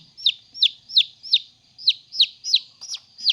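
Eleven newly hatched, day-old baby chicks peep in a rapid, even series of high, sharp calls, close and clear against near silence, with no talking.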